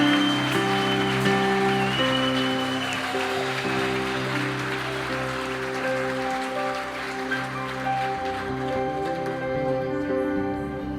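A church congregation applauds in a dense, sustained patter of clapping that continues steadily over a tonal musical backdrop and fades slightly toward the end.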